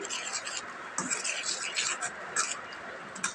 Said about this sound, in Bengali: এখন ট্যাংরা মাছটা রান্না করার জন্য মশলাটা কষিয়ে নিচ্ছি।